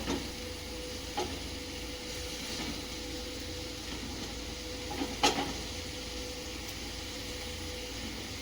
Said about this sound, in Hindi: अदरक, लहसुन और लाल मिर्च का पेस्ट डालेंगे। इसे भी अच्छी तरह भून लेंगे।